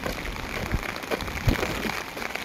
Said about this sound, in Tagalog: Ang ulan dito ay hindi malakas guys, kaya matagal matapos.